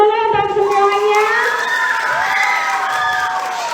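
At a school student council candidates' debate, an audience of students cheers and shouts enthusiastically, a dense, loud crowd roar with high excited voices throughout.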